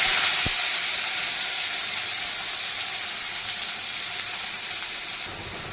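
Onions and bay leaves frying in hot oil give off a steady, loud sizzle and hiss that holds for several seconds and then drops slightly at the end.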